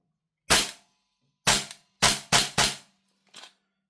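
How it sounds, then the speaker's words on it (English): Sharp mechanical clacks from an HK416A5 rifle as a chambered round is cleared, five loud, close metallic snaps in quick uneven succession, followed by a fainter click, with near silence between them. "Do have a round in the chamber, let's clear that."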